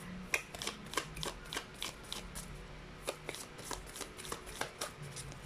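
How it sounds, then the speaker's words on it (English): A deck of somewhat flimsy tarot cards being shuffled close by, producing a quiet, rhythmic run of crisp riffling snaps at a fairly steady pace. "so let's actually give it a shuffle."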